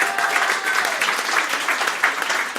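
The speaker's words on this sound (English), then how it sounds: "Big round of applause, please," Audience applause for Tracy at a Talking Tales Speakeasy storytelling evening, a steady, fairly close wash of many hands clapping that holds evenly throughout with no talk over it.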